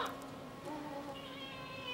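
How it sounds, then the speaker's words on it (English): Recorded cats yowling and meowing from the graveyard scene of Disney's Haunted Mansion attraction, a couple of drawn-out meows heard clearly over a soft ambient hum. "Here are some cats from the graveyard."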